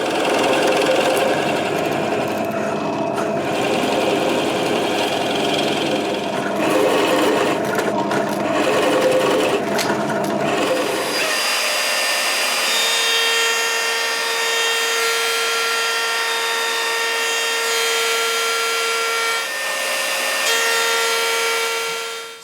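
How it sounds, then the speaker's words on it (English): A router cutting pickup cavities into a wooden guitar body during a guitar build, a loud, steady high whine that runs continuously throughout, its pitch and texture shifting partway through as the cut changes. "So that's our pickup cavities all routed out"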